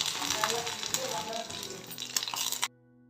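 Curry leaves sizzle in a little oil while cauliflower fry is made, a dense crackling hiss running steadily for nearly three seconds before cutting off abruptly into near silence.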